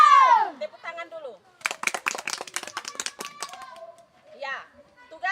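Children in a physical education lesson on throwing and catching clap their hands in a burst of quick, uneven claps lasting a few seconds. Young voices chatter just before and after the clapping.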